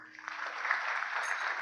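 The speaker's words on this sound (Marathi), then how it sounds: "एकदा टाळ्या वाजव." A kirtan audience at a temple claps together in a soft, fairly distant patter of many hands that swells briefly and holds steady.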